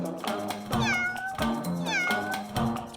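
A cat meows repeatedly in a cartoon story about a lost cat, three or four close, clear tonal meows in a steady rhythm over soft background music.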